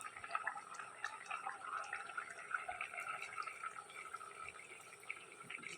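Thick coconut milk poured into a simmering curry of ash gourd and meat, heard as a faint, continuous liquid trickle with soft bubbling and small drips throughout.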